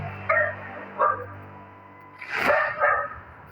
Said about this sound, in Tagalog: Okay, may aso.